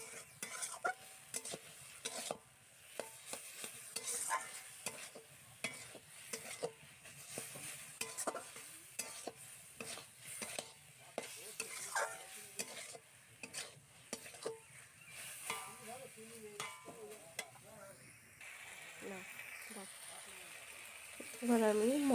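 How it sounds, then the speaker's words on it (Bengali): Taro leaf mash being stirred in a wok, with steady scraping and stirring strokes over a soft sizzle throughout, close and fairly quiet, with some metal clinks near the end. "এইভাবে নাড়াচাড়া দিয়ে যেতে হবে, যাতে কড়াইতে লেগে যাবে।"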